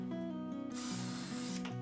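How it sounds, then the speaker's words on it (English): A drill with a countersink bit bores guide holes in birch drawer pieces for a European-style kitchen, a steady high whir with a rising bright hiss once the bit bites, continuous for under two seconds at moderate level. "I mark and drill holes using a countersink bit"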